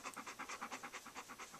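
A dog pants quickly and rhythmically nearby, with short, quiet, breathy puffs in a steady even pattern and no other sounds.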